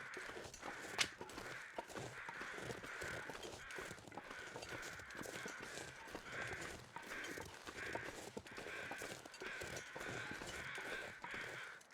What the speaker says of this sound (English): I hear a lot of crows.